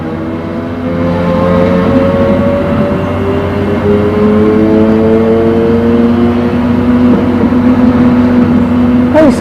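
Car engine in a racing video game, a loud, continuous whine that climbs in pitch repeatedly as the car accelerates through gears, with a brief bump near the end.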